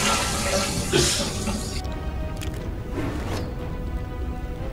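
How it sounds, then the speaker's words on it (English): A toilet flushing, a steady rushing of water that is heard over a game stream and slowly tapers without ending. "I did just hear a flushing sound."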